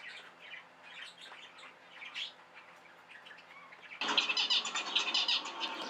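A male zebra finch sings from about four seconds in, a dense, busy burst of high chirps and buzzy notes over quiet room tone, preceded by softer scattered cheeps from caged birds.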